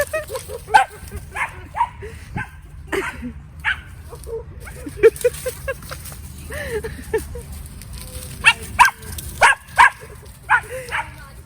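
Several small dogs yap and yip in quick, irregular bursts, fairly close, with some whimpering between barks and a low background hum.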